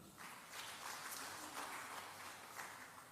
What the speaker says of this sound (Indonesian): Tepuk tangan yang setuju.